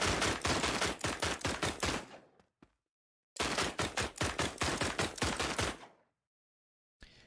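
Automatic gunfire in the video game Dreams: two loud, close bursts of rapid rhythmic shots, each about two to three seconds long, separated by silence, with a short final burst at the end and no talk.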